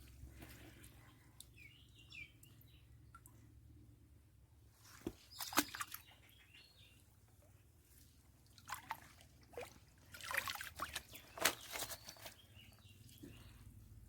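Water is poured into a container of floating narrow-mouthed frog eggs, making soft splashing and trickling bursts around the middle and a longer, busier pour near the end over a quiet background.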